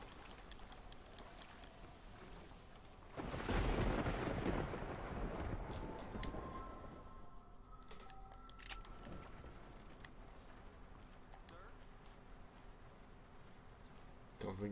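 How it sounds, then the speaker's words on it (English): Thunder from a storm in Red Dead Redemption rolls in as a loud, low rumble that swells and slowly fades over several seconds, with rain and faint clip-clop in the background and people talking. "Let's sleep and wait for this storm to blow over."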